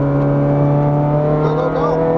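Exotic sports car on a race track in Las Vegas, engine droning steadily and loud throughout as it downshifts under braking, with an instructor's voice talking over it.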